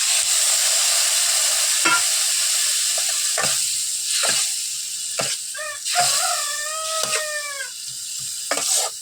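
Spices with garlic, turmeric, salt and dried chilli powder frying with a little water in a pan, a soft continuous sizzle broken by repeated scraping strokes of a spatula.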